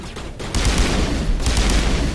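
Loud, sustained rapid gunfire from the video game Mass Effect, dense overlapping shots that ramp up after a brief dip and keep hammering without pause.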